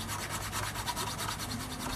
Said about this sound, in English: I'm going to just grab a file first and see how soft this pine is